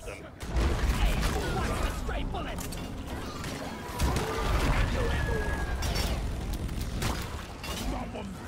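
Gunfire and combat in the co-op shooter Deep Rock Galactic, with loud, busy rattling bursts, booms and mechanical clatter that fill the whole stretch while players talk over the action.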